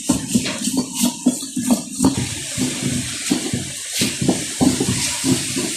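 A flat stone ammi grinder is worked by hand with a little water added, the grinding stone scraping and sloshing in a steady rhythm of short strokes, close and fairly loud.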